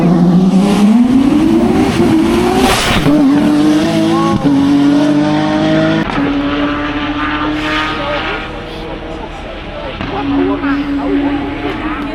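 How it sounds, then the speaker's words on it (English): Toyota MR2 race car at a hillclimb, its engine loud and close with rising and falling revs as it accelerates and shifts, a brief tire squeal mixed in, and a commentator talking over it. "here's Peter Zeely in that bonkers MR2"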